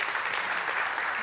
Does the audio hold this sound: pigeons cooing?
no